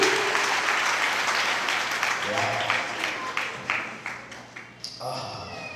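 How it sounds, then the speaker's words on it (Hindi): An audience at a gospel gathering claps, starting as thick, continuous applause and thinning into separate, fading claps before a final short burst. "गजब की ताली बजा दीजिए।"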